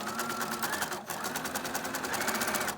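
A sewing machine stitches fabric in a fast, even run of needle strokes, steady and close, going back over a seam with only a slight hitch partway through.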